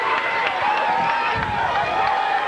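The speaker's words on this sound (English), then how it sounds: "the Lancaster crowd making a lot of noise over here to our right" A baseball crowd at a Lancaster game roars and cheers in a steady, loud wash of voices with no distinct pauses, sounding full and fairly close.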